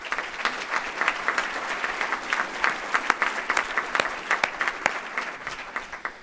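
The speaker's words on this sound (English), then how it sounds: "How about giving a warm round of applause?" A large audience applauds steadily at a Columbus Metropolitan Club gathering, dense sustained clapping with a few sharper claps standing out, filling the room without any voices over it.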